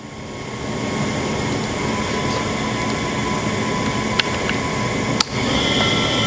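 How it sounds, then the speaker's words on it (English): Tormach 1100 MX CNC vertical machining center with a BT30 spindle turning at about 900 RPM, giving a steady droning hum with faint tonal whine, two sharp clicks near the end, and no talk. "The spindle's running right now at 900."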